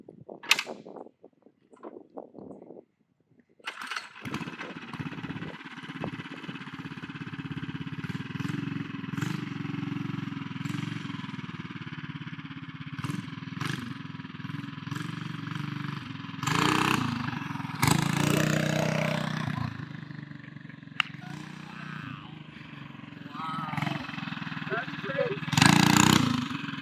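A mini bike engine with a Juggernaut torque converter starts after a few pulls and settles into a loud, steady idle with occasional revs and popping, while people talk and cheer close by.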